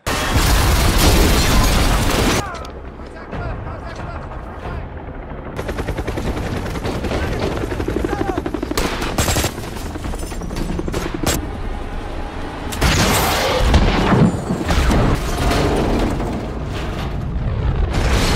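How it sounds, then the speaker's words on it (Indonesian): Heavy gunfire and booming explosions as an RPG shoots down a helicopter in a film scene, with bursts of shots, loud blasts and rumbling debris throughout, occasionally quieting before erupting again. "Namun Nick berhasil menjatuhkan helikopter India dengan RPG-nya."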